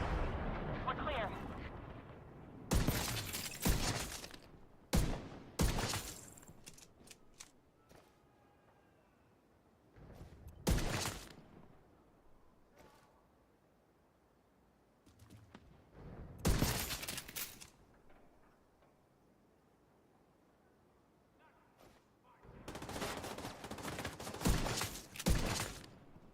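Gunfire shoots through a wall in the video game The Division 2, several loud clustered bursts of shots and booms separated by quieter gaps, with talk in between.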